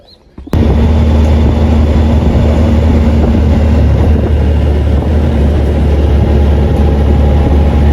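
A train rolls past a closed level crossing near a railway station, a loud, steady rumble of wheels and cars that starts abruptly after a brief quiet moment and holds for several seconds.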